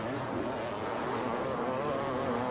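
Lime green Kawasaki KX500 motocross bikes in a 1990 AMA 500 race at Budds Creek buzz faintly in the distance, a thin, continuous engine drone heard from afar.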